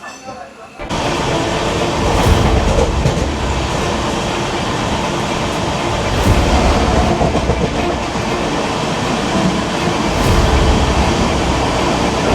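Amrit Bharat Express train running, heard from inside the general compartment, a loud steady roar and rattle of wheels on track with a faint rhythmic clatter, starting abruptly after a quiet first second.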